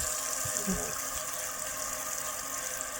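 Steady water running from a fountain tap in Spain, a constant close hiss with faint splashing and a brief voice early on.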